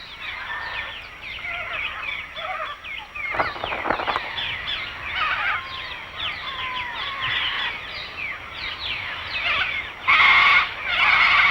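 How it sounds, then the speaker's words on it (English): Raucous, harsh bird calls repeat in overlapping bursts against a quiet background, with a louder cluster of squawks near the end. "And cockatoos add their raucous call to the sounds of morning."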